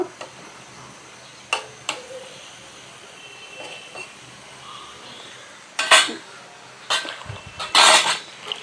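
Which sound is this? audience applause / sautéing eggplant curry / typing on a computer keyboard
sautéing eggplant curry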